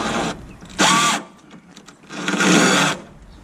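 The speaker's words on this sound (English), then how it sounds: "So I've got a screw extractor from DeWalt." A DeWalt drill running a screw extractor into stuck screws on an RV, two distinct whirring bursts, the second longer, separated by a short quiet pause, close and fairly loud.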